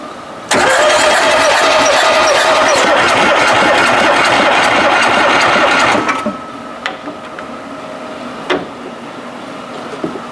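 A 1971 VW Type 3 Squareback engine with a leaking carburetor runs loud and steady for several seconds. It then cuts off abruptly, leaving a quieter background with a few faint clicks and knocks.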